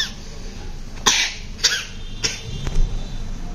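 A person, likely a child, coughs several times in short separate bursts, loud and close, with pauses between and no speech.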